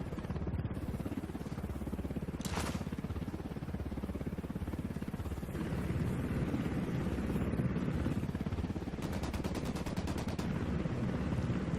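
A helicopter in the video game Ghost Recon Wildlands drones steadily overhead throughout, its rotor thrum mixed with scattered gunfire bursts and a rapid machine-gun rattle toward the end.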